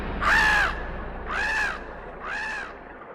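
A crow caws three times in a sound effect, each call a loud harsh rasp, evenly spaced and growing slightly fainter, with quiet background.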